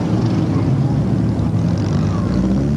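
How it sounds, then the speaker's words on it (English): Big motorcycle engines rumble through the 1996 Richmond Christmas Parade, a continuous loud, low drone with layered engine tones, and faint voices mixed in. "you can hear the motorcycle engines in the background"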